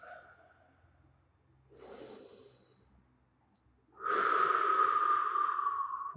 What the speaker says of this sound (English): Steady, deep breaths.